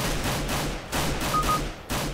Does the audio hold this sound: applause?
no